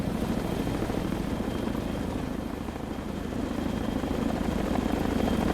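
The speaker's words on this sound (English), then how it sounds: "There's the CH-46 taking off from the Tarawa." A CH-46 twin-rotor helicopter lifts off from the amphibious assault ship Tarawa in a naval combat game, its steady rotor thrum and engine whine loud and continuous, swelling slightly toward the end.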